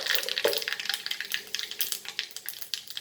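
Mustard and cumin seeds crackle and sizzle in hot oil for kadhi, a dense close frying hiss with quick popping spatters throughout, and no voices.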